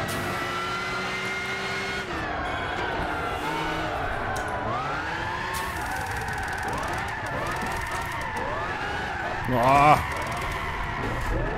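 A race car engine in Gran Turismo 6 whines and revs continuously, its pitch rising and dipping through gear changes and throttle lifts, with a louder surge near the end and a brief exclamation from a man.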